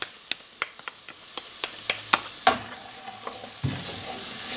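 Meat sauce with garlic and spicy chili paste being stirred in a frying pan for picante de carne, with steady sizzling broken by a dozen sharp spoon scrapes and taps, close and moderately loud.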